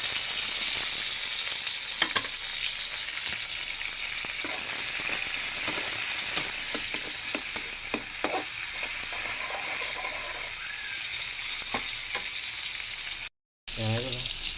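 Bean sprouts and cabbage sizzle loudly in a hot pan as they are stir-fried, with repeated scraping and tossing clatters of the utensil over a constant frying hiss.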